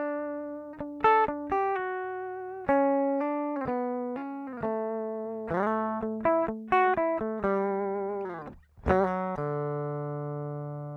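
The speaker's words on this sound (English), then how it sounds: "You will first hear only the naked guitar." Dry, unprocessed electric guitar playing plucked single notes and short phrases, clean and close with crisp attacks and natural decay, no effects or talking.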